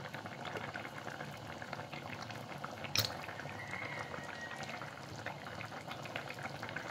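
A pot of mackerel curry, Ayala Mulakittathu, bubbling at a steady boil, with continuous soft gurgling and popping and one sharper clink partway through, close and moderately quiet, no voices.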